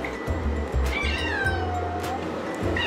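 A cat being bathed cries out in a series of drawn-out, wavering meows, close and loud over steady running water or splashing.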